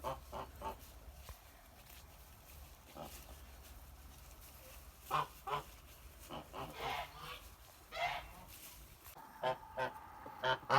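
Kholmogory geese by a stream give repeated loud honks in irregular bursts, some close, over a faint background of flowing water.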